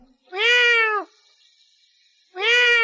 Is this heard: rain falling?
no